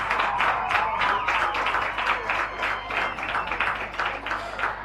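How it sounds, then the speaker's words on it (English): Rugby league supporters cheering and applauding at a Newcastle RL match between Central Newcastle and Kurri Kurri Bulldogs, a steady, loud crowd roar with rhythmic clapping swelling throughout. "And the Butcher boys supporters there cheering"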